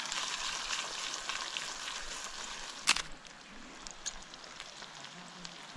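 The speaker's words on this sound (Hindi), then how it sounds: "वो ये गया करी पत्ता या मोहरी, हम तो मोहरी बोलते।" Curry leaves and mustard seeds frying in a pan at an isolated outdoor campsite, a soft steady sizzle and crackle with one sharp pop near the middle and a few fainter ticks afterward, no voices.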